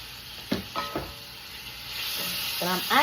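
Onion, bell pepper, tomato and broccoli for an omelette sizzling in a frying pan, with a soft steady hiss broken by a few louder crackling bursts, and a voice speaking at points.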